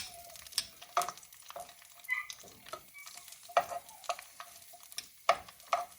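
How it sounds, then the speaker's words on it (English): Asparagus tossed in butter in a pan, with repeated clattering scrapes and a light sizzle, close and fairly quiet, no talking. "I'm gonna give that a toss in the butter just to get it coated"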